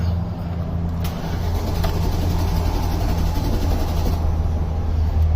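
A GM car engine, its intake wet with carb cleaner after a throttle body reset, runs with a steady low rumble close by, with a couple of faint clicks and no talk.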